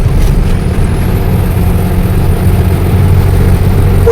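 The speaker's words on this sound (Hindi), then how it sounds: "ये आ गया टैंकर तेल वाला।" Oil tanker truck driving past on a road, a loud continuous low engine rumble and road roar up close throughout.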